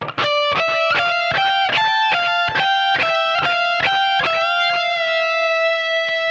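Electric guitar plays a solo section, a quick run of sharply picked lead notes with bends, steady and clear, alone without any voices.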